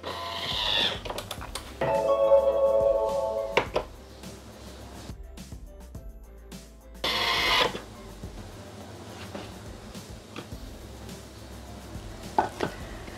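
Thermomix kitchen machine running at speed 10 for about 15 seconds, blending cinnamon and cloves for a peach liqueur: a loud rough whirring burst starting about two seconds in, then a quieter stretch with intermittent clatter and a second short burst.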